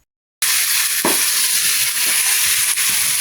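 Onion, garlic and tomato sizzle steadily in a hot pan, a dense broadband frying hiss that starts abruptly after a brief silence and continues with faint stirring scrapes, no talk.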